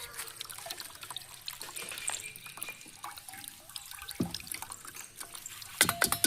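Liquid strained off while cooking a large batch of white biryani for thirty people trickles and drips steadily and faintly, with occasional metallic clanks from the pot.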